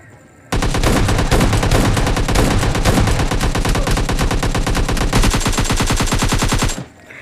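Gunfire in the mobile shooter game PUBG Mobile Lite, a sudden loud burst of rapid automatic shots in a fast, even rhythm lasting about six seconds before cutting off abruptly into quieter game ambience.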